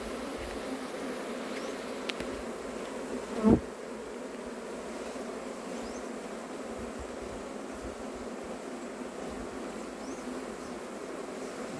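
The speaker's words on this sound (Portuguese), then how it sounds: "Tem bastante abelha aqui, pessoal" Bees swarm around a wooden tree stump close to a house, their buzzing a steady, dense hum throughout, with one short louder thump partway through.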